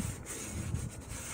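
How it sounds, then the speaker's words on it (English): Sandpaper rubbed by hand across an Ozark Trail 12-inch cast iron skillet while stripping its factory seasoning, a close, continuous scratchy rasp with a few brief strokes marked by small dips in the grinding texture. "I just wanted to put up a hand sanding video."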